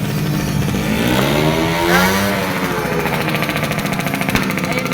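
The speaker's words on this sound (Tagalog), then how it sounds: "Tayo, may motor" A motorcycle engine runs steadily close by with a buzzing, revving drone that swells briefly in the middle, heard alone without talk.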